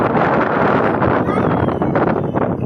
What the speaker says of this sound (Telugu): ఇలాంటి గాలి